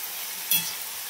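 Flat bean pods drop into hot oil tempered with mustard seeds, cumin, garlic and coriander, giving a steady close sizzle with a brief louder burst midway.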